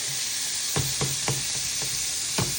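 About six ounces of cooked ground beef frying in a pan, a steady bright sizzle punctuated by several sharp scrapes and stirs from a utensil at irregular intervals.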